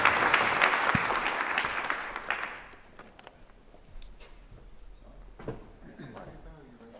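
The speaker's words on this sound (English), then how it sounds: "Let's give Adam a nice round of applause here." Audience applause after a talk on energy markets and the 1973 oil embargo, a moderate round of clapping that dies away after about two seconds, followed by scattered sounds and voices.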